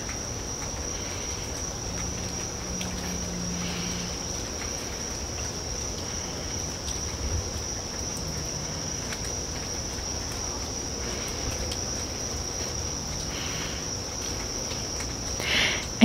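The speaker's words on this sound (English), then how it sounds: "And through it all, the crickets chirping away" Crickets chirp in a continuous high, steady trill throughout, moderately loud over a faint rainy night-time background hum.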